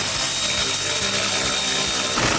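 Ratchet clicking and cranking while a master cylinder comes off a Mustang under restoration, loud and close, with clustered mechanical ticks and scrapes over a noisy shop background.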